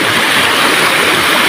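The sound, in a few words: Kaigangan waterfall rushing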